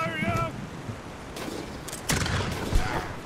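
Grape shot fires from cannons aboard a ship in the video game Blackwake, heard as several booming, crackling blasts over wind and sea noise, with a brief voice near the start.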